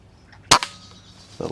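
An air rifle fires a single sharp, close crack at a squirrel outdoors, followed by a brief faint echo and near silence, then a soft rustle.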